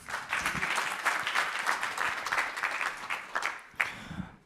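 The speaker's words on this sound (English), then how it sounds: "One more round of applause for Isiah," An audience at a business pitch competition claps in a dense, sustained burst that swells and fades, briefly surging again near the end.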